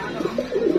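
Pigeons of fancy breeds such as Sirazi, Lahori, racer, Baghdadi and Homa coo in a brief series of soft, low, rolling calls, close by at a shop, with no talking.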